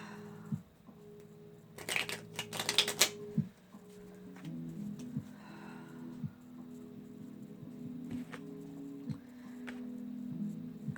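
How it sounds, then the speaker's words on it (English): Halloween tarot cards are shuffled and pulled, a brief burst of crisp card riffling and slapping over a low steady hum, then faint scattered ticks and handling noises. "So let's pull a few Halloween tarot cards"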